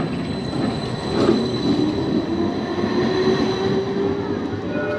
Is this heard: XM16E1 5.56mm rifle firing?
no